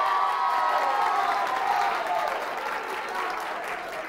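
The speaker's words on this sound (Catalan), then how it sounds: "Un aplaudiment per ells, sisplau." A crowd applauds students at a Catalan school event, steady, dense clapping that gradually thins toward the end.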